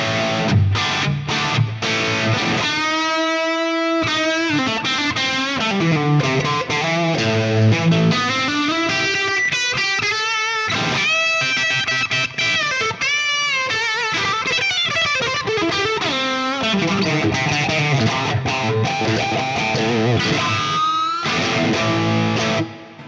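Electric guitar through an IK Multimedia TONEX model of a Marshall JCM 800 called Black Angus, a loud, crunchy overdriven tone with sustained lead bends and chords, played alone and continuously.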